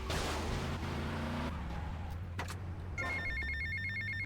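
A telephone rings in GTA Vice City with a repeating electronic ring pattern, heard over a steady engine hum and other game sounds.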